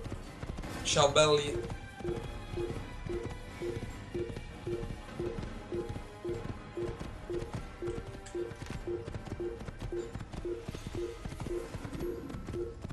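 Horse hooves gallop in a steady, rhythmic clip-clop during Assassin's Creed gameplay, repeating evenly under game music and ambience after a brief louder burst; someone speaks briefly near the start.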